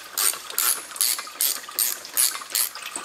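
Ratchet wrench loosening bolts on the transmission pan cover of a Mercedes W205 C-Class with a 7G-Tronic Plus gearbox, a close sequence of about eight quick clicking bursts in an even rhythm.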